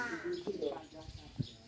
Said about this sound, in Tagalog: Merong maraming ibon dito.